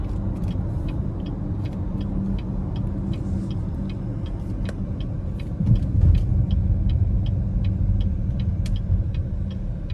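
A 2018 Cadillac XT5 Platinum AWD accelerates on the road, heard as a steady engine and road rumble from inside the cabin that swells slightly partway through, with a regular faint ticking over it.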